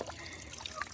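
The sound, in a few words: water poured into mouth for rinsing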